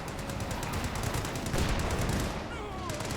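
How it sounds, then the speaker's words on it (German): Sustained machine gun fire in the Company of Heroes 2 Ardennen Assault campaign, a dense continuous burst of rapid shots with battle noise mixed in and German voice chatter over it. "Infanterie! Schieß mit dem MG auf sie!"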